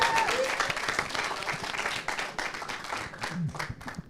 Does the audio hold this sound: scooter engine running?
no